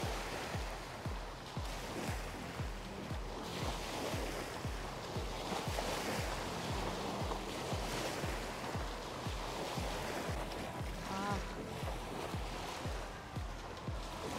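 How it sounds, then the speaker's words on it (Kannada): Sea waves wash onto a beach in Singapore in a steady, rolling surge, with a rhythmic low thumping underneath throughout. "ಅಲೆಗಳು ವೇವ್ಸ್ ಹೆಂಗೆ ಬರ್ತಾ ಇದೆ ನೋಡು"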